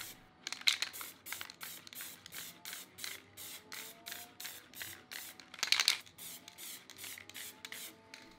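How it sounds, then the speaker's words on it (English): Black spray paint hissing from an aerosol can onto a laser-cut piece in a series of short, evenly spaced bursts, with one louder, longer burst partway through and no talking. "the outer piece is given a few light coats of black spray paint"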